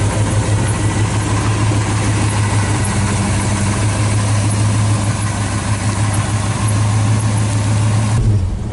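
1983 Chevy 4x4 truck engine idling: a steady, loud low rumble holds constant for several seconds, then drops off suddenly near the end.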